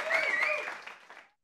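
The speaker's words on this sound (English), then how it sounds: "That's the sound of the crowd going wild right there." A comedy show audience applauding and cheering for a comedian, a short loud burst of clapping and shouts that fades out after about a second.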